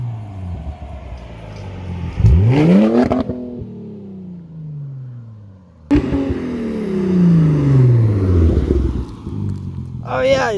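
An Audi A4 with its exhaust cut off drives past and revs, the raw engine note rising and falling loudly across two pulls, with voices talking over it.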